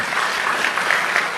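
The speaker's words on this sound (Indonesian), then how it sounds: "Tepuk tangan buat Tuhan." Church congregation at a Christian sermon claps together in a brief burst of dense, even applause, filling the hall at close range.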